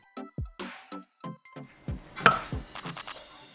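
A knife slicing a carrot on a cutting board, with a series of crisp, close chops in an uneven rhythm and no talking.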